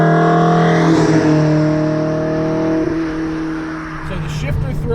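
A 1988 BMW E30 M3 engine revs at high RPM, a loud sustained droning whine heard from inside the car as it pulls along a road, the pitch easing then climbing again.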